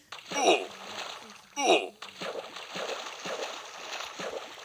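Water poured from a bucket in Minecraft, heard as two short splashy bursts near the start, each about half a second long, followed by softer continuous sloshing and game ambience, with a voice talking over it.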